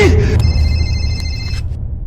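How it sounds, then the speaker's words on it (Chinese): A telephone bell rings once in a short, bright electronic trill over low background music in a tense drama scene, then cuts off, leaving the music under a quiet gasp. "谁这时候来电话？"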